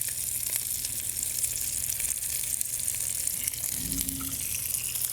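A fried egg cooking in a hot pan beside sirloin steaks, a faint steady sizzle and crackle throughout, with a slight swell of frying near the end and no voices.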